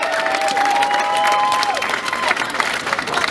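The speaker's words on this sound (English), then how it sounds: "Ladies and gentlemen, a huge round of applause for Katie Taylor" Loud crowd applause and cheering erupt for boxer Katie Taylor at a Boston fight press event, a dense continuous roar of clapping with whoops throughout.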